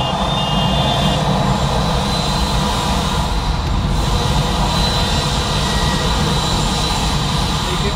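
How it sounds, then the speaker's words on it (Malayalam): A small Bhutan Airlines plane near Paro airport roars loudly and continuously with a broad, steady engine rush, close and without speech. "ഇത് ചെറിയ ഫ്ലൈറ്റ് അല്ലേ"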